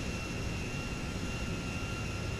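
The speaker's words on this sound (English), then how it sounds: "Well, we want to see how it taxis." An Antonov 225 Mriya airliner taxis in a GTA 5 mod, its jet engines giving a steady, even roar with a faint high whine held throughout.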